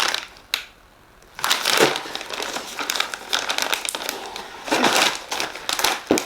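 Cardboard packaging from a vegan snack box is torn and crushed open, with a sharp rip followed by bursts of crackling, crinkling cardboard and paper, close and fairly loud.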